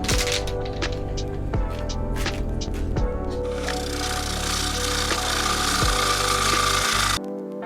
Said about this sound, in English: And then commenced the grinding and sanding and the sanding and grinding.